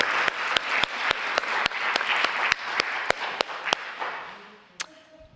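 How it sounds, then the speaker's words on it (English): A church congregation at a Sunday service breaks into dense, sustained applause with sharp, distinct claps punctuating the roar, which thins and fades toward the end. "Let's give her another round of applause."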